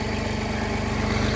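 A tractor engine idles steadily up close on a village farm, a loud continuous low throbbing with an even pulsing rhythm and no voices.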